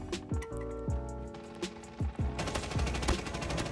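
RUS-79U submachine gun firing in Call of Duty Mobile, a few short bursts and single shots with a denser rattling burst toward the end, sharp and close against a steady game background.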